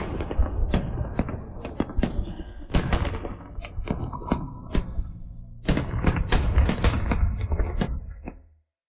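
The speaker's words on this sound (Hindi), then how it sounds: "पटाखे।" Firecrackers go off in a rapid, irregular string of sharp, close bangs and cracks for about eight seconds before the sound cuts away.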